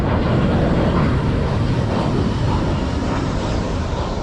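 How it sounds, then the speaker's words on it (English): United Airlines airplane flying near an airport on Aruba, a broad continuous roar that stays loud and steady throughout, mixed with wind rumble. "This also gives you an idea how close we are to the airport. United Airlines."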